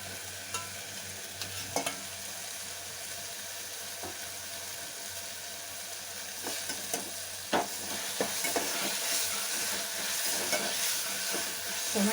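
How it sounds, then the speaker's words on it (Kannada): Tomato and green chilli fry in a pan as a soft, steady sizzle, broken by quiet scraping and tapping of a stirring spoon, close and fairly low in level. "ಟೊಮೆಟೊ ಹಾಗೆ ಚೆನ್ನಾಗಿ ಅದರಲ್ಲೇ ಫ್ರೈ ಆಗಲಿ."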